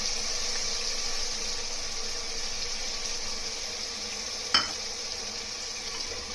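Mint leaves frying for mutton biryani give a steady, soft sizzle in hot oil, continuous and close, with one brief clink of a utensil midway and no talking.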